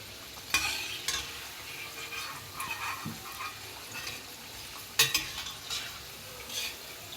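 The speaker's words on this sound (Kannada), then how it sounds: "ಗೋಲ್ಡನ್ ಬ್ರೌನ್ ಆಗೋ ತನಕ ಬೇಯಿಸಿ ತೆಕ್ಕೊಬೇಕು" Cabbage manchurian frying in hot oil until golden brown, with a soft steady sizzle, stirring scrapes and a couple of sharp clinks of a utensil against the pan.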